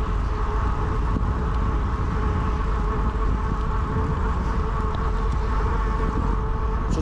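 Wind and road noise captured by a chest-mounted GoPro 11 fitted with a Windslayer cover while biking downhill, a constant, dense low rumble with a steady whooshing hiss and a faint whine, no talking.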